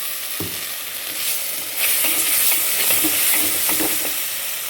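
Masala and coriander powder sauté in a hot pan for a Tamil vegetarian curry, giving a steady, loud sizzling hiss with occasional soft scraping stirs.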